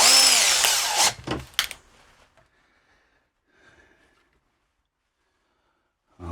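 Power drill with an old quarter-inch bit, used during repair work on a high-power delta loop antenna, drilling loudly for about a second and a half, then stopping, followed by near silence.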